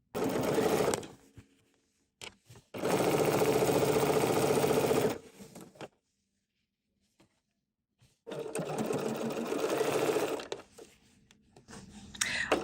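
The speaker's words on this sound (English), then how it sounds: "I'm going to start sewing right here at this spot" A BERNINA 990 sewing machine stitches binding on a quilted watermelon mat in three sustained runs separated by quiet pauses, loud and close, with no voices.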